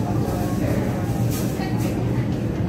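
A steady, loud rumble of a Singapore MRT metro train running near Marina South Pier and Bayfront, a continuous low roar with rattling on top, like riding inside a carriage.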